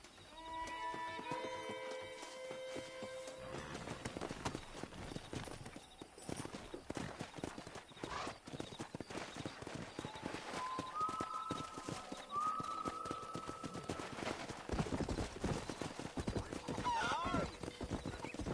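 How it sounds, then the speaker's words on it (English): Horses clip-clopping at a brisk pace in the video game Red Dead Redemption, with a couple of whinnies rising above, set against background music and occasional game sounds. "Let's see if we can't wrangle some horses."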